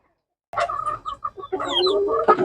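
Hens cluck in a series of short, close calls on a poultry farm, starting after a brief silence and building into a busier, overlapping stretch near the end.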